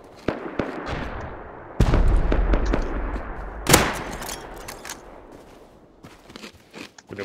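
Gunfire in the survival game Rust, sharp close shots and a brief burst, with a heavier blast near the middle, interspersed with scattered clatter and quieter shots trailing off.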